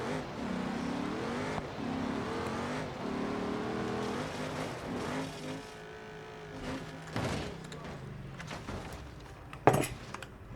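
A car in BeamNG.drive is driven off-road, its engine revving up and down in uneven surges. Bumps and clatter come near the end, with a sharp loud hit just before it finishes.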